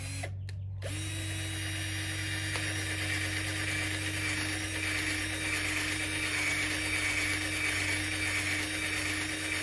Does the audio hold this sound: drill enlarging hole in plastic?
yes